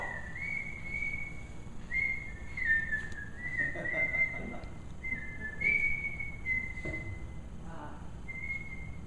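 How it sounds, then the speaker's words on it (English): A person whistles the national anthem as a slow melodic tune, clear and fairly close, with steady low background noise underneath. "You were whistling the national anthem."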